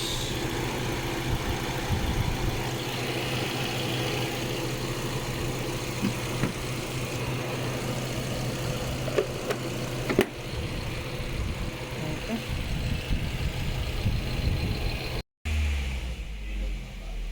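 A Suzuki Swift Gen 2 engine with an overheating problem runs steadily at about 3,000 RPM, a constant mid-low hum close by, with a brief break near the end.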